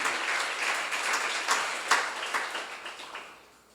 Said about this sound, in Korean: 믿는 사람만 박수 치시기 바랍니다.